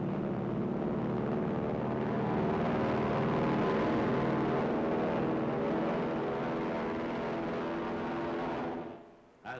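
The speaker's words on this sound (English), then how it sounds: "The first planes take off at dawn." Loud, continuous engine drone of WWII navy carrier planes taking off at dawn in 1945, a steady roaring hum that holds for several seconds before cutting off abruptly near the end.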